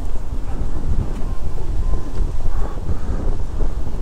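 Gusty wind buffets the microphone outdoors at a park lakeside in Minnesota, a loud, continuous low rumble that swells and dips without pause.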